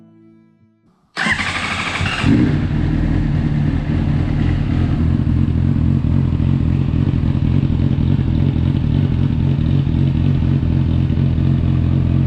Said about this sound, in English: Right here we've got the bike warming up.